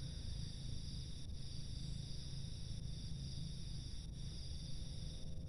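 Crickets chirp in a steady, dense drone across a rice field near a bottle trap, faint and continuous with no voices.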